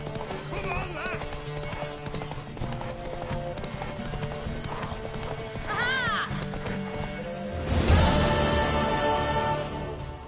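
Galloping hooves of a horse in The Witcher 3 video game clatter in a quick rhythm, with a horse whinnying midway and a louder burst of activity near the end.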